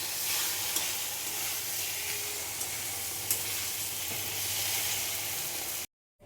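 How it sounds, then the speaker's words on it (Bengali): Bottle gourd curry with garam masala stir-fried in a pan, a steady close sizzling hiss with occasional faint scrapes of stirring, running alone before cutting to silence at the end. "এবার আর একটুখানি কষিয়ে অফ করে দেবো।"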